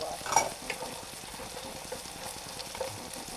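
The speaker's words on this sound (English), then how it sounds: "those shallots go in, you get that smell right away" Shallots frying in a hot pan give off a soft, continuous sizzle, close and fairly quiet, with a brief clatter at the start as they go in.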